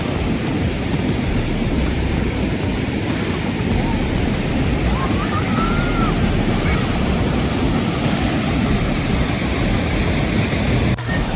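Ocean surf breaking at Pulau Merah (Red Island) beach in Banyuwangi, heard as a steady, loud roar of waves with wind noise across the microphone, continuous from start to finish.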